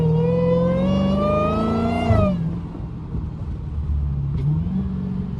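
A Dodge Hellcat with its hood removed revs hard, the engine note climbing steadily for about two seconds before dropping off into a lower, rumbling drone at steady speed, loud and close.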